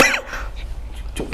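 A person coughs in a couple of short, harsh bursts that sit close and fairly loud against a faint background.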